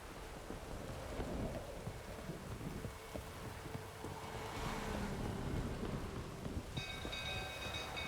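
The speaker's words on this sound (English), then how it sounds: "lightning strike." Steady rain and rumbling thunder roll through an outdoor thunderstorm in the video game The Witcher 3: Wild Hunt, a continuous moderate wash of noise with low rumbles and no voices.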